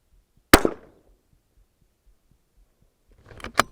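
A .22LR rifle fires at long range: one sharp, close crack followed by quiet, then a second burst of clatter and impacts near the end, with faint low thumps in between.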